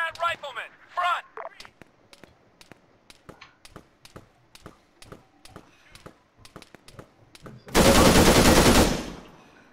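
Rifle gunfire in Arma 3, with a quick voice shout at the start, then a steady series of sharp single shots spaced roughly every half second, ending in a loud sustained roaring burst.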